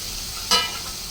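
Capsicum dropped into a hot pan with frying carrots for fried rice sets off a sudden loud burst of sizzle that quickly settles back into a continuous hiss.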